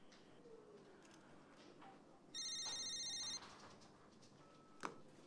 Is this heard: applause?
no